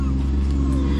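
Steady low car engine rumble from inside a moving car, continuous and close for a brief moment, with a voice speaking over it.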